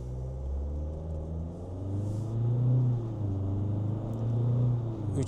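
A Foton Tunland V9 pickup accelerates hard uphill in sport mode, its engine giving a steady, deep, close rumble that swells and climbs in pitch through the run, with no talk over it.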